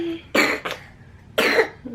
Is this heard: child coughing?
yes